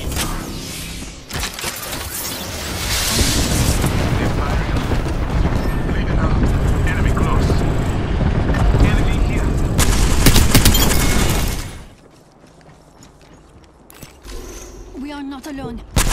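An airstrike pounds the ground in the Apex Legends video game, a loud, continuous run of booming blasts and crackling debris for about ten seconds, then dropping away to quieter sounds, with voices speaking over it.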